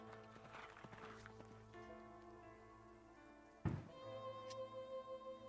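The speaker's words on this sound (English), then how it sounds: "there's fireworks going off" Fireworks going off in the distance: one muffled boom stands out over a steady tonal background hum.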